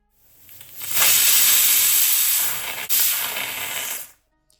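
A pressure cooker brewing tea lets out a loud, sustained whistling hiss of escaping steam that rises, dips briefly, surges again and then cuts off abruptly.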